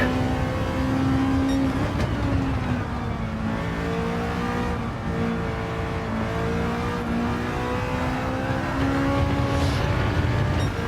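A small Honda race car in Gran Turismo 7 holds a loud, continuous engine note that climbs and drops through gear changes across the lap, with a brief tire squeal and no voices.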